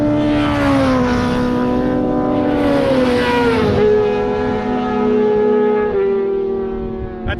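Motorcycles ride past on a track, engines loud and close with a sustained drone that slides down in pitch as they pass, followed by another lower engine note near the end.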